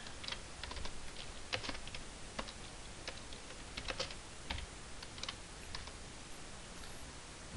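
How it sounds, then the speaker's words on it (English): Quiet, brisk typing on a computer keyboard: irregular clusters of light key clicks tapping away steadily, close by and with no talking. "I'm going to go ahead and finish typing these in real quick."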